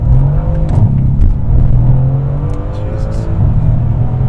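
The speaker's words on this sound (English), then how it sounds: "This thing shifts so fast that it's like it has no downtime with the way the turbos spool up. It is always in boost." A tuned 595 hp Mercedes C63S AMG accelerates hard from inside the cabin, a loud, continuous deep engine drone with rising harmonics and turbo whir, heard close and sustained throughout.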